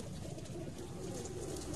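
Pigeons coo softly on a rooftop loft where fancier birds are kept, a continuous low murmur blended into steady ambient noise, fairly faint and without talk.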